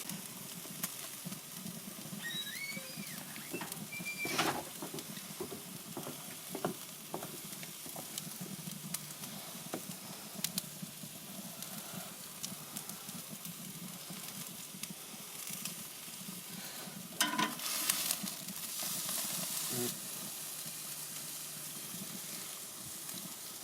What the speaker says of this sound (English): And we're just going to put it down for a sear.